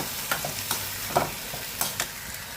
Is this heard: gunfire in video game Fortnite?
no